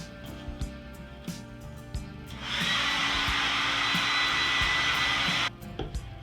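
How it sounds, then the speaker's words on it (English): A hair dryer switches on with a steady, loud blowing whoosh for about three seconds, drying paint on a night sky painting, then cuts off, with faint background noises before and after. "I'm going to hit that with the hair dryer really quick"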